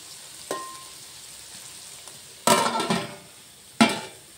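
Vegetables cook in a pan on the stove, a low steady sizzle running throughout, broken by a few sharp louder bursts of stirring and scraping against the pan.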